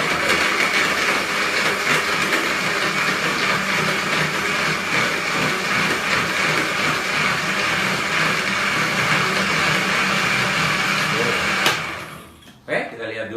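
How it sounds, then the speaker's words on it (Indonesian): An electric blender whirs loudly and steadily for about twelve seconds as it blends avocado, dates and pineapple juice into a juice, then winds down and stops. "Kita akan coba blender atau kita akan putar-putar."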